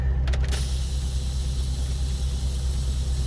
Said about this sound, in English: Release the brakes. D is for drive. And away we go.